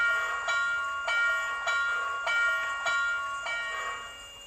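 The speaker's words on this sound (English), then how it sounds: "So 1 will be your bell." A sound-module bell from an MTH HO scale Southern Pacific GS-4 #4449 model steam locomotive rings about seven evenly spaced times, each clang bright and close, sustaining into the next strike with no voices.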